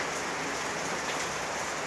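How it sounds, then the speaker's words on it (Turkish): Steady, dense rain pouring down close by, a continuous broadband hiss with no pauses and no voices. "Yağmur yağdı arkadaşlar. Bakın. Şarıl şarıl yağıyor"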